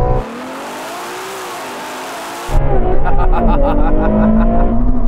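Ferraris, a Purosangue, 812, SF90 and 296 GTB, launch hard in a drag race: a steady engine drone gives way to a loud, sudden surge of roaring, revving engines climbing in pitch, with brief excited talk at the start.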